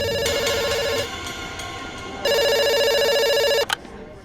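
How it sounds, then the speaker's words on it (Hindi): A telephone rings at a pizza shop order desk: a loud, steady electronic bell tone in two long bursts with a short gap between them, ending abruptly as the call is answered. "काम फोन को घूरना नहीं, फोन उठा के ऑर्डर लेना।"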